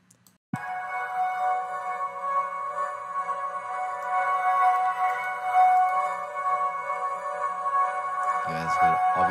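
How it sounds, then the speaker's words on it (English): A reversed sample washed in reverb and auto-panned left and right, a steady sustained tonal swell running throughout, loud and dense, with a brief shift near the end. "Obviously, you hear the auto pan going left and right here."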